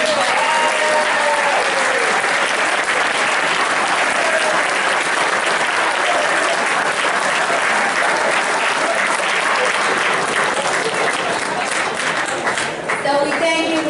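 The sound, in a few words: audience applause for high school athletes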